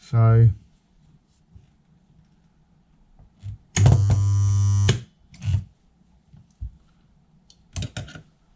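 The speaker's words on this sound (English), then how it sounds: "So let's turn the spot welder on." A spot welder firing on Classic Mini car panels in a home garage gives one loud, steady electrical buzz lasting about a second, set between short bursts of speech and quieter knocks.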